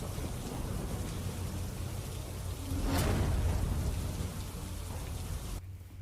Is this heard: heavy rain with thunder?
yes